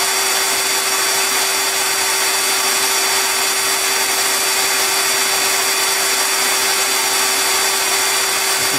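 The motor of an Arduino guitar pickup winder runs steadily with a constant high whir and a clear sustained tone, unchanging and fairly loud throughout, with no talking.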